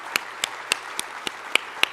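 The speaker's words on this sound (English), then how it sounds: "We don't normally get live claps." Seven crisp, evenly spaced hand claps ring out in a live plenary session room, sounding like one or two people clapping slowly and distinctly against a quiet background.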